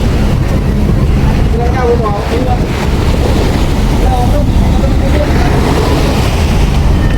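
Big sea waves roll and splash around a boat island hopping off Boracay, a loud, continuous rush of water churning under heavy wind buffeting the microphone, with voices faintly mixed in.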